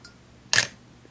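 A single crisp shutter release from a Minolta XE-5 35mm film SLR with a 50mm f/1.7 lens, set to 1/100 at f/16, close and clean in a quiet room.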